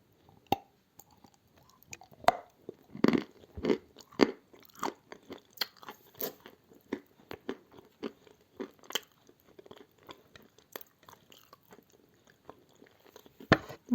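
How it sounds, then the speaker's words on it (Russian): Crunchy clay tiles dipped in yogurt are bitten and chewed up close, with sharp cracking bites at the start giving way to a long run of irregular, quieter crunching and chewing. "С вот такими плитками астана буду кушать. Просто макаем в йогурт и кушаем."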